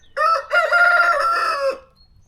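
A rooster crows once from a backyard chicken flock in a garden, a loud, close call lasting about a second and a half after a brief opening note, with no talking.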